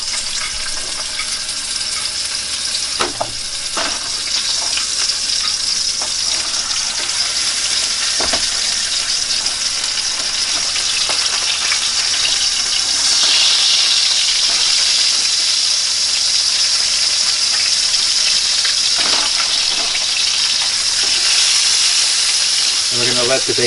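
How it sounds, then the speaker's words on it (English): Bacon frying in a hot pan, a steady dense sizzle with soft crackles and occasional louder pops, continuous at close range with a voice talking faintly underneath. "With the pan still frying, a little bit hot, we're going to go ahead and we're going to put in our bacon."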